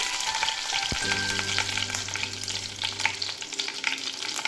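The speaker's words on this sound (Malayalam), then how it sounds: "കടുക് പൊട്ടി വരുന്ന മുറയ്ക്ക് ഒരു രണ്ട് പച്ചമുളകും" Mustard seeds spluttering and crackling in hot oil as green chillies go into the pan for a raw banana flower and cowpea thoran, a steady close sizzle with sharp pops throughout.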